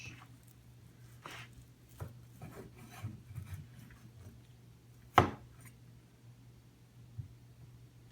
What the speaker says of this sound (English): Now that I finished chopping the onions